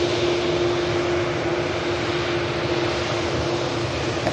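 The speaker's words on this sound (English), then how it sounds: "This aircraft diverting in from Edinburgh" A jet aircraft diverted in from Edinburgh lands at Manchester Airport, giving a loud, steady broadband engine roar with a constant tonal whine that holds throughout with no letup.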